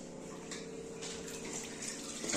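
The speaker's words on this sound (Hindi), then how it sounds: "आरो में से पानी भरा जा रहा ब्रो" Water from an RO purifier tap pours into a glass in a steady, close trickle whose tone shifts gradually as the glass fills, ending with a brief clink.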